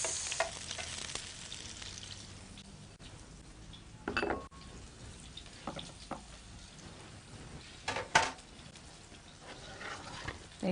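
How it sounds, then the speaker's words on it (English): Food sautéing in a frying pan sizzles with a steady broad hiss, punctuated by occasional stirring scrapes and clinks of a utensil against the pan, fairly close and moderately loud, with no talk. "Saute for a few seconds."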